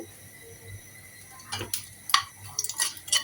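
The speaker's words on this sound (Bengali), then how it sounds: "দেখো বন্ধুরা, তেলটা গরম হয়ে গেছে, দিয়ে দিচ্ছি 3-4টা শুকনো মরিচ" Dry red chillies and torn bay leaves dropped into hot oil in a home kitchen, giving a faint crackle and spattering sizzle that rises after a quiet start, with a few utensil clinks.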